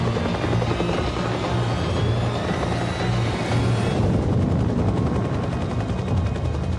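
A military helicopter airlifting a suspect to Camp Bastion in Afghanistan, heard as a loud, steady rotor thrum and engine roar close by, with a brief shift in tone near the end.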